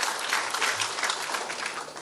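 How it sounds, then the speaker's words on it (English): A live audience gives a steady, full round of applause at a televised quiz event, with dense, even clapping holding at moderate loudness for the whole stretch. "Round of applause to Bayelsa."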